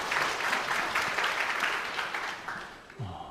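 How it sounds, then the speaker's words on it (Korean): A church congregation claps in praise to God, a steady wash of many hands for about two and a half seconds that fades, then a brief voice at the end. "하나님께 영광의 박수를 드립니다."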